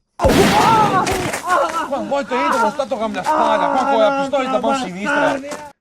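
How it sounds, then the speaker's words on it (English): Gunfire in an Italian indie film scene as a man is shot in the leg and then again, with loud repeated bangs under a dense layer of shouting and voices throughout. "manages to shoot him in the leg. and then shoot him again."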